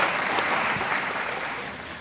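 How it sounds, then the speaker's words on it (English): Audience at a Cape Fear Literacy Council luncheon applauding, a steady dense clatter of many hands clapping that holds throughout and tapers slightly toward the end. "hands up and we want to applaud"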